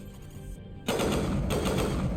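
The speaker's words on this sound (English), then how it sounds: "I got a new gun. And it shoots like a ba ba ba ba." A new gun in Mass Effect fires rapidly, a dense loud burst of automatic shots starting abruptly after a short lull and running to the end.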